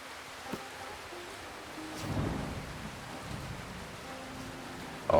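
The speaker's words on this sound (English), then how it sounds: "since it is raining pretty hard" Heavy rain falling in the Amir Timur Bandit Kingdom campaign of a strategy video game, a constant hiss with a low rumbling swell midway, no voices.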